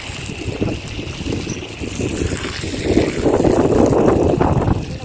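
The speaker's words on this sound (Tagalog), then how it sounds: "Grabe yung hangin." Strong wind buffets the microphone continuously outdoors, a loud, rough rumble that swells toward the end, with faint water sounds beneath.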